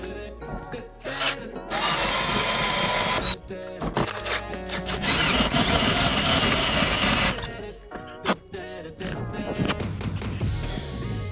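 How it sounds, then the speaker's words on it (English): A drill with a poor bit grinds into a car's metal body panel in loud, harsh bursts, running for several seconds, stopping briefly, then starting again with short stuttering pulses. "So I'm gonna drill the hole right here"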